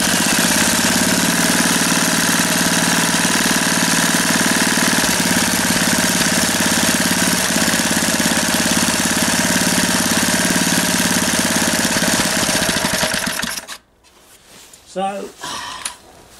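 A small engine idles loudly and steadily for most of the stretch, then stops abruptly, leaving quieter handling noises and a few brief knocks.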